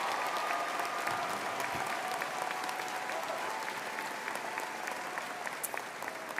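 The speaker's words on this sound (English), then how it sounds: "Let's give them a round of applause." Crowd applause at an engineering college commencement honoring top-ranked seniors, a broad, even wash of many hands clapping in a large hall, steady from start to finish and gradually thinning near the end.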